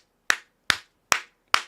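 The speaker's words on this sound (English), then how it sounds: "I'm clapping hard as hell right now." Four hard, sharp hand claps, evenly spaced about four tenths of a second apart, close and alone with silence between them.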